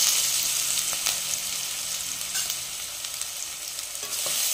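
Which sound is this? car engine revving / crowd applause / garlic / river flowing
garlic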